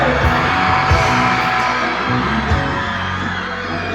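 A loud crowd of young people at a youth camp opening night in Pampanga, Philippines, yells and whoops together, a dense wall of shouting and cheering with no break.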